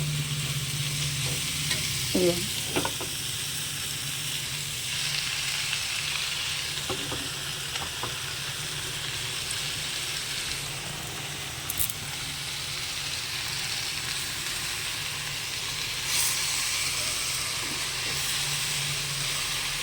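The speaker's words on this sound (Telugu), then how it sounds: "స్టవ్ హై మీద పెట్టుకొని గోంగూరని ఇగో ఇలా వేసుకుంటూ మనం కలిపామనుకోండి" Gongura leaves stirred and cooking in a pan on a high flame, with a steady sizzling hiss throughout, broken by a few scraping clinks of the spoon against the pan, with no talking.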